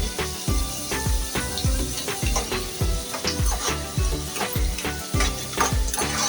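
Onions fry in a pan for lemon rice with a steady sizzle, while a spoon stirs and scrapes them in quick rhythmic strokes about twice a second, close and fairly loud.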